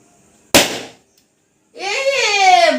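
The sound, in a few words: balloon being popped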